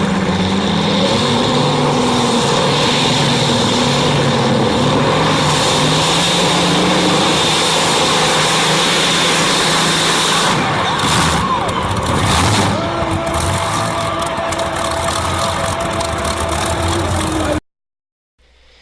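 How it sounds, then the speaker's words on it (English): A modified tractor pulling a heavy sled at a tractor pull exhibition roars with a loud, sustained engine drone, its pitch shifting partway through, then cuts off abruptly near the end. "Here's an example of a tractor pulling exhibition."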